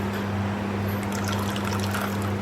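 About a liter of water pours steadily into an aluminium vessel as the base for cooking chana dal, a continuous close trickling splash over a low steady hum, with no talk.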